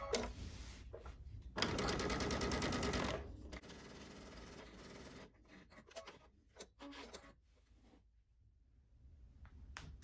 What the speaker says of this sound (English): we'll quilt the opposite side of the quilt where we get to